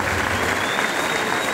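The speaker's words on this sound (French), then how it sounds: "mais vraiment qu'on les applaudisse très fort, ces musiciens-là" Festival crowd at Notre-Dame-de-Pierreville 2017 claps loudly and steadily for the musicians on stage, a dense, continuous burst of many hands.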